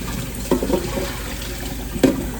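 Cold tap water runs steadily into a sink over freshly boiled eggs, a constant rushing wash with a couple of brief splashy bumps.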